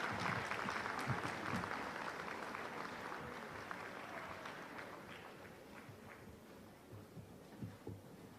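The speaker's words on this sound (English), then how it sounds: "Please have a huge round of applause for Respected Nirmla Sitaraaman ma'am" A room full of attendees claps for Finance Minister Nirmala Sitharaman at a chartered accountants' event in Rajasthan, a steady, dense patter of hands that thins slightly toward the end, with a few louder claps standing out.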